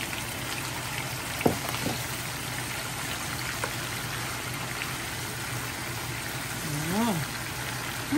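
Kadyos, pork and jackfruit sautéing in a pan with a steady sizzle and hiss under occasional clinks, while a person speaks nearby.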